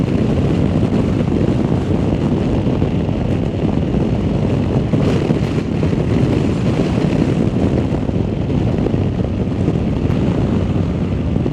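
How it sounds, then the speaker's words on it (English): Strong wind buffeting the rider on a 2024 Honda Africa Twin motorcycle at elevation, a loud continuous broadband roar with engine rumble beneath, steady throughout with no talk. "hopefully as we drop down into the valley here, the wind will die out a little bit"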